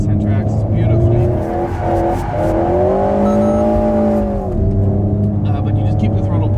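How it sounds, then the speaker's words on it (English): Alpine A110 S sports car drifting on track, its engine revving hard then dropping, with tire squeal and rising and falling pitch under someone talking. "once you get some confidence with the car, it actually is very nice to drift."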